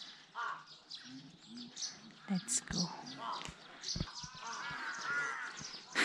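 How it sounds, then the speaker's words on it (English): Crows caw around Gangtey monastery in Bhutan's Phobjikha Valley, scattered harsh calls amid other chirping birds, partly under nearby whispering and talk, with a few sharp knocks toward the middle. "There are so many crows in here."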